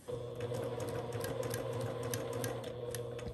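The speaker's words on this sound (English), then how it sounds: "I'm going to double back on my stitches." A sewing machine runs steadily while stitching binding onto a quilt or table runner, a continuous close mechanical whir with rapid ticking needle strikes throughout and no talking.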